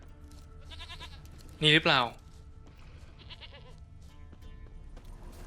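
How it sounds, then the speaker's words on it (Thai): A goat in The Witcher 3 lets out one loud, close, wavering bleat lasting about half a second. Faint game ambience surrounds it, and a person speaks briefly just before. "เมื่อกี้ได้ยินเสียงแพะใกล้มาก"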